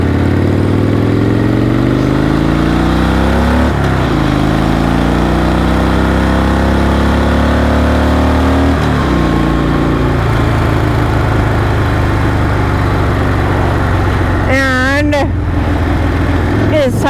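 A Harley-Davidson Dyna Wide Glide rumbles loud and close while riding, its engine note rising and falling through gear changes, with a brief chirp of other noise near the end.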